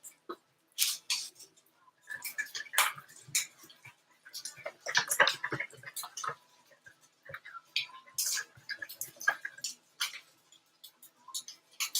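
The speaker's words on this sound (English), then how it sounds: "I'm just mixing up these eggs for the egg bites." Eggs being whisked in a bowl for egg bites during kitchen meal prep, a rapid irregular ticking and clicking of the whisk against the bowl in bursts throughout, close and fairly clear, with no talking.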